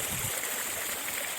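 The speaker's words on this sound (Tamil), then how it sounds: "தண்ணி போயிட்டுருக்கு" Water rushes continuously through farmland near Erode, a steady bright hiss of a flowing stream close by, with no breaks.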